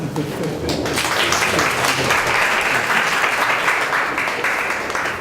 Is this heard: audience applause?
yes